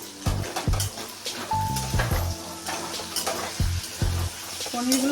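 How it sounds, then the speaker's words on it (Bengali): Paneer cubes frying in a pan give a close, steady sizzle, with frequent knocks and scrapes from a spatula turning them at an uneven pace. "পনিরগুলো এখন ভাজা হয়ে গেছে, একটু বেশি ডিপ ফ্রাই করব না"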